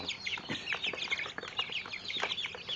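Backyard chickens cluck over a shared feed of mixed rations, a busy chorus of short calls from several birds layered close together with no pauses.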